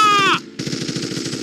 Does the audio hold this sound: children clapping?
no